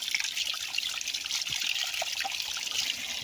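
Clear spring water flows and trickles beside a river, a steady close splashing and gurgling with no voices.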